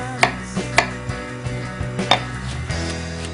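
Garlic chopped with a knife on a board, a series of crisp knocks at an uneven rhythm, close and fairly loud, with no voices.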